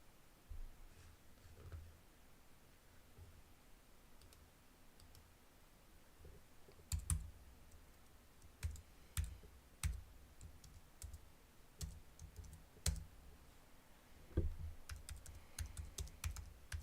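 Computer keyboard typing during a late-night live stream: scattered sharp key clicks and short bursts of keystrokes over a quiet background, growing busier toward the end, with no talking.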